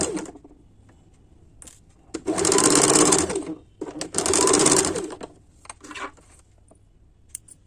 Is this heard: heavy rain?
no